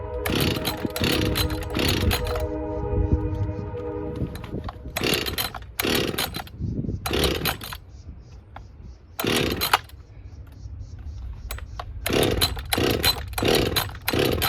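A Husqvarna 562XP chainsaw with a new carburetor is cold-started, with repeated bursts of loud pull-cord cranking and brief sputtering catches separated by pauses, close up.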